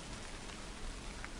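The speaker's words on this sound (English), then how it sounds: "Aw, no, it's raining." Steady rain pours in the horror game Tsugunohi, a dense, even hiss of drops hitting surfaces that stays constant and close throughout, with no voices.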